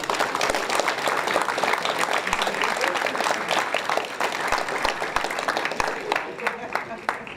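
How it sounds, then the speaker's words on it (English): An audience at a school science fair applauds a long-serving teacher, a dense, steady burst of clapping from a crowd that tapers near the end, with some voices mixed in. "I'd like to give a round of applause to Miss Annie Russell"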